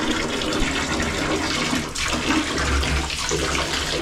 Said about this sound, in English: you turn it to the hot water supply and you turn on the water